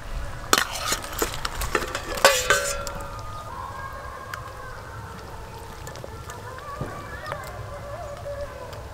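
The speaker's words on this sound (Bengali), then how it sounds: "এবার ভেজে রাখা মাছ দিয়ে দেব।" Fried prawns drop into bubbling curry gravy for chingri malai curry, with several sharp utensil clinks and splashes early on, then a quieter steady simmer.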